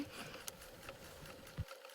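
A sewing machine stitches a fabric apron with a quiet, rapid mechanical patter and a brief clunk near the end before it stops.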